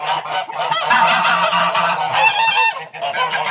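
A gander honks loudly and repeatedly at close range, harsh nasal calls coming in a steady run with brief pauses.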